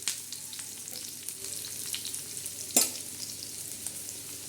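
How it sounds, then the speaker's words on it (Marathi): Onion roasting on a hot tawa for a black masala, a soft steady sizzle with faint scraping as it is stirred and one sharper knock partway through. "आता हा कांदा लाल होते चांगला असा हलवायचा तवाच आपला"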